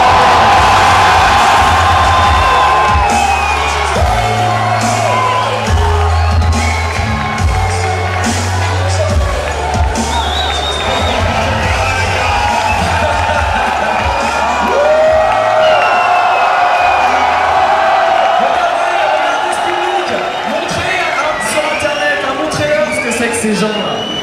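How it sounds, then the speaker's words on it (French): A large crowd at a Paris gaming event cheers, whoops and applauds team Infused, a dense, loud wash of noise mixed with a voice on the sound system. "Encore applaudissements Infused."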